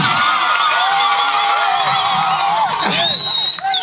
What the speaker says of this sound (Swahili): mpigia Yesu makofi mengi